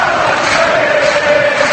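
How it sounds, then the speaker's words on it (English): Liverpool supporters in a packed Premier League stadium against Southampton celebrate a goal, a dense, steady roar of crowd cheering and chanting that holds loud and unbroken throughout. "Well, the Liverpool fans really didn't have an awful lot to cheer before that goal, but they're certainly celebrating it now."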